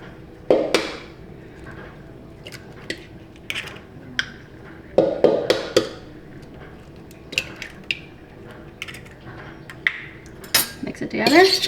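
Eggs being mixed in a bowl with a utensil for cinnamon roll pancakes or French toast, with repeated close metallic clinks and taps against the bowl in an irregular rhythm, loud and busy.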